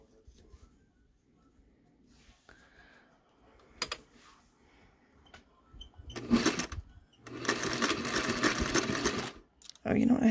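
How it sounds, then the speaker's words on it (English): Sewing machine stitching a centered zipper into a dress, heard in two loud bursts of running stitches after a quiet stretch, with a brief final run at the end. "So now I'm going to stitch up, over, and down."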